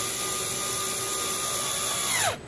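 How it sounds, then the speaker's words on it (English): A small power tool whirs steadily while driving 8mm head bolts on a 2011 Acura RDX Turbo, then winds down with a falling pitch and stops near the end. "So when it comes to tightening this, sometimes I like to use a screwdriver"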